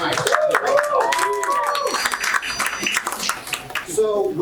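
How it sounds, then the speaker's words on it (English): An audience at a men's club meeting claps briskly in the evening, a close patter of hands mixed with voices talking over it. "Please give yourselves a round of applause for being here tonight."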